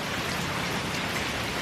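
Steady rain pours down on a rainy day, a dense, even hiss of drops hitting surfaces with no break.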